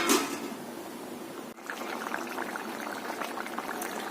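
Crab curry bubbling in a pot, a steady soft boil with gentle liquid bubbling and simmering throughout, close and fairly quiet.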